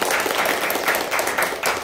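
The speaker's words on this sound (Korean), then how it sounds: "박수 한번 쳐요" An audience claps at a lecture on industrial management consulting, a brief, moderately loud burst of applause that holds steady throughout.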